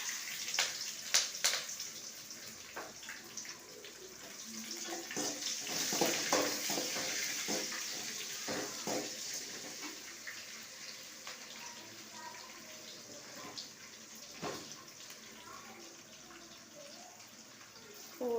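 Chopped onion, green chili and curry leaves hit hot oil for rava kichdi, bursting into dense crackling sizzle that is loudest at first and then settles to a softer, steady fry, with quiet speech at times.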